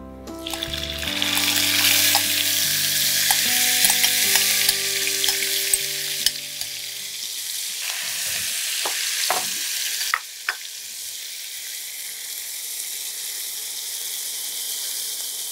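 Onions frying in a pan for Punjabi chole masala, a steady loud sizzle with occasional stirring scrapes and clinks, the hiss easing somewhat in the second half.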